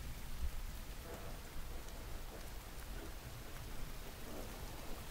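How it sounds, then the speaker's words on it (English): Steady rain with gusting wind from an interactive fiction game, a continuous dense hiss of falling rain that holds level throughout with no voices over it. "Sudden gust of wind blows a cold spray of rain in your face."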